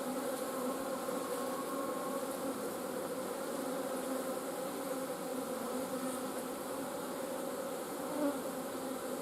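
Honey bees hum in a steady, dense drone at an open hive in January, close and continuous throughout with no voices.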